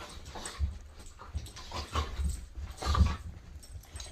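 Dogs wrestle and play indoors in a house, giving off scuffling growls, whimpers and pants in irregular bursts that peak a few times, fairly close and moderately loud with no talk.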